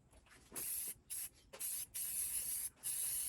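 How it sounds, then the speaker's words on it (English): A Rust-Oleum spray paint can in heirloom white hisses in five bursts, each about half a second to a second long, separated by short pauses. The sound is close and there is no talk. "give it 2 coats of this heirloom white Rust-Oleum spray paint and let it dry"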